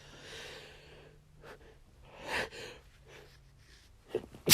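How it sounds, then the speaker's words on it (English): One person sneezes, starting with a few sharp intakes of breath and snorts and ending in a loud, abrupt burst, close to the microphone, with no words spoken. "As you do, I'm going to sneeze."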